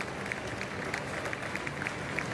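Steady applause from a large crowd at the FEI Driving World Cup carriage-driving competition in Lyon, a dense wash of clapping heard from a distance, continuous throughout.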